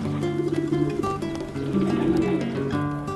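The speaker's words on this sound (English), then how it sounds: "the pigeons are very friendly here in Spain, but their cooing has a distinct accent, I find." Pigeons cooing in a square in Seville, several close, soft throaty coos overlapping in a repeating rolling rhythm over faint outdoor murmur.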